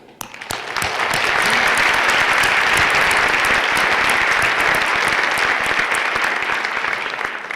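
Graduation commencement audience in Sierra Vista breaking into sustained, dense applause that swells quickly and holds steady and loud throughout, with no talk over it.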